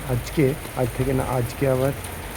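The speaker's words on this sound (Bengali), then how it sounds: "বৃষ্টি শুরু হয়ে গেছে" Midday rain falls as a steady, even hiss in the background beneath a voice.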